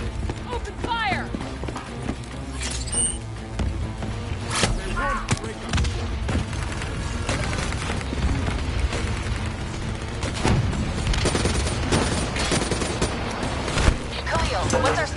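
Gunfire and explosions from a Call of Duty campaign firefight, with dense bursts of shots and heavy booms layered over a busy battle mix that runs throughout, while voices shout over the action.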